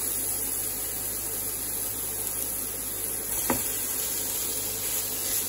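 Beyond ground beef with garlic and onion sautéing in a pan, a steady hiss and sizzle with a faint stirring scrape, no voices.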